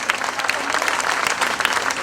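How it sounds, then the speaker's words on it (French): A crowd at a Rassemblement National political rally in Paris claps hard and fast, a close, dense patter of many hands that stays steady throughout. "il faut l'applaudir bien fort"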